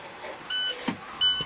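Ignition switched on in a North Syracuse IC school bus in Rigs of Rods: two steady electronic warning tones sound in short bursts, separated by a soft click and a brief thump, fairly close and with no talk.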